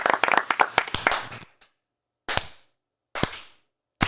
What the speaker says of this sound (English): Let's give her a good old-fashioned clap.